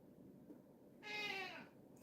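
A cat lets out a single drawn-out, wavering meow at mid-clip, near but fairly quiet against a low background hum.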